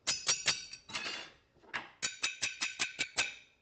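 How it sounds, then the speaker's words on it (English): Rapid hammering on silver produces a quick series of bright, ringing metallic taps, a few irregular hits and then a steady run of about eight evenly spaced strikes, close up. "Man, this is what silver sounds like."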